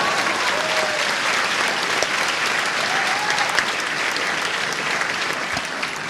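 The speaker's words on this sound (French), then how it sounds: "Allez-y, applaudissez, ça me fera plaisir." Audience clapping steadily at a French-language improv match in Neuchâtel, a dense, even wash of applause lasting the whole stretch.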